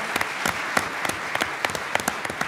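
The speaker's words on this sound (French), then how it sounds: "On applaudit très fort, Alexandre." A crowd at the final of an eloquence competition applauds loudly from start to end. Individual sharp claps stand out above a dense, steady clapping texture.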